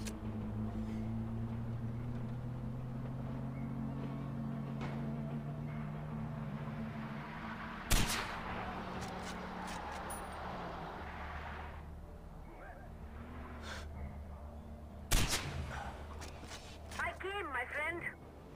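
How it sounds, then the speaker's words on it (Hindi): Two sharp, isolated gunshots, several seconds apart, ring out in the Far Cry 4 video game over continuous background game ambience and talking. "पहले हम गन को फायर करेंगे।"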